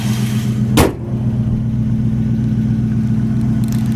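A 1969 Buick Skylark convertible with power steering idles steadily close by, a low, even engine hum with one brief sharp click near the start.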